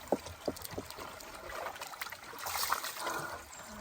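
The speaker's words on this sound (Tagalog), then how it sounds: "nandito tunog swimming pool" Water trickling and splashing in a swimming pool, a faint, uneven flow of gurgles and small drips heard close up without talk.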